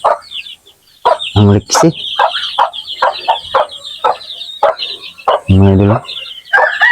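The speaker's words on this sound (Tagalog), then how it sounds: "Ang gaganda ng mga sisiw natin mga idol." Chickens and chicks cluck and cheep close by in a scattered, irregular chorus, with a few loud, drawn-out calls standing out. Someone talks over the birds at intervals.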